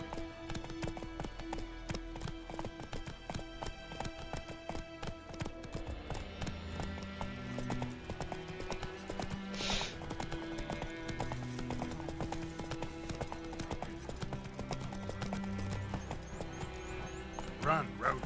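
Roach, Geralt's horse in The Witcher 3 video game, gallops in a steady rapid clip-clop of hooves over terrain, close and continuous beneath game music and voices talking.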